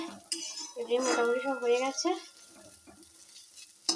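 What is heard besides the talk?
bitter gourd frying in a pan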